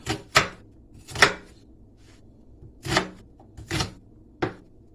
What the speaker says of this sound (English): When you are slicing your onions, you have to be very careful.